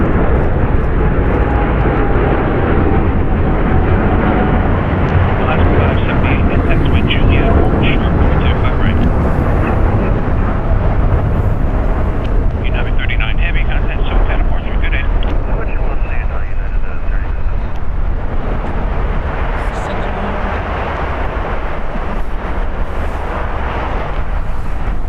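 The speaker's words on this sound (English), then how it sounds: "Departing is United Airlines Flight 39 going to Tokyo. It's a Boeing 787-10 Dreamliner." Brand-new United Airlines Boeing 787-10 Dreamliner taking off from LAX, a loud sustained jet rumble holding for the whole stretch with a voice talking over it.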